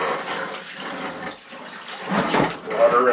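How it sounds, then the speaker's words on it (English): Wash water from a DIY off-grid camping clothes washer being dumped out, a rushing, splashing pour that swells and surges unevenly over a few seconds, close and fairly loud. "Then dump the water out."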